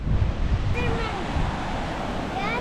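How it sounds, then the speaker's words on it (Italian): Ocean surf rolls onto a beach at Cumuruxatiba in Brazil, a broad continuous wash of waves with wind noise buffeting the microphone throughout. "L'oceano, altro che mare. Questo è l'oceano."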